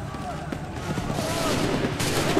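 Musket volley gunfire in Assassin's Creed 3 during the Battle at Lexington comes as a dense, rumbling fusillade of overlapping shots that builds and continues throughout, with brief voices under the din.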